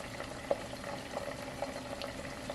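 Ghee simmers quietly in a pan, giving a soft steady bubbling hiss broken by small scattered pops and crackles, with no voices.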